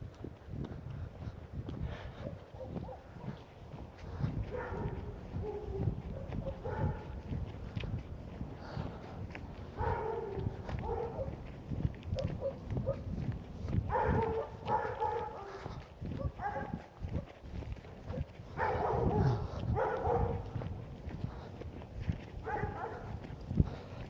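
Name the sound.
dog outside while being walked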